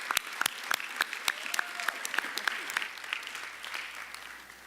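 Audience applause for school volunteers at a school district board meeting, a steady field of many hands clapping with a few sharp nearby claps standing out, sustained throughout.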